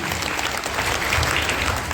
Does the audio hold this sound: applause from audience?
yes